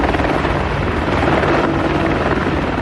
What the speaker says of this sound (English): This is the U.S. Army's H-64A Apache helicopter, the #1 attack helicopter in the world today.